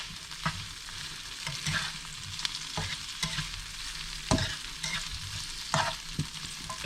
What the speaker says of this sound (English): So now I'm going to add the zucchini, and I will stir this